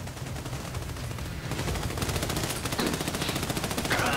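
Dense rapid gunfire from the Army of Two: The Devil's Cartel video game, a continuous automatic clatter that grows louder and more intense after the first second and a half, with no voice over it.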